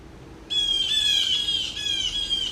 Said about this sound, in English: that's the bird alarm for there's a snake in the area